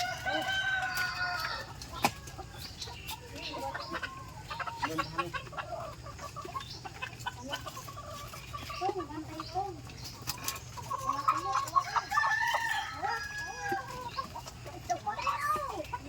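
Chickens cluck continuously at a farm, with a rooster crowing now and then, close and lively, while people talk quietly in the background.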